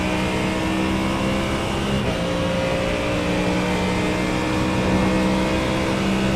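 A GT3 race car in a sim racing game lapping Road America, its engine droning steadily and loudly at high revs with a brief shift partway through, no talking heard.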